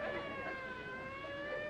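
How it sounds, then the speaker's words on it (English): Police sirens wail in the distance of a hillside neighborhood, faint, steady rising tones holding briefly with no voices over them. "Them sirens! Somebody's calling the law."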